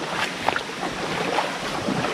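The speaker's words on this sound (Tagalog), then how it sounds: "Sarap talaga pakinggan ng lagas-las ng tubig." Water ripples and flows in a stream beside farm fields, a steady broadband rush with small splashes throughout, close and fairly loud, with no voices.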